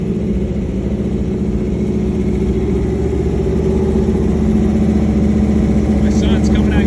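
A small-block 327 V8 in a 1979 Chevy C10 Cheyenne runs steadily at a rough, unsettled idle on its first start, loud and close, with a few faint voices underneath.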